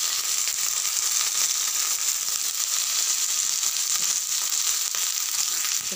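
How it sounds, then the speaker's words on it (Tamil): Okra sizzles and fries steadily in hot oil in a pan for a Tamil kolluparupu gravy, a dense continuous crackle close up with no voices. "சிம்மில் வச்சு இதை நல்லா வதக்கி எடுத்துக்கலாம்."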